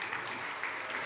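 An audience at a conference closing session claps in a brief, steady patter of applause, moderately loud and even for the whole second, with no voices over it.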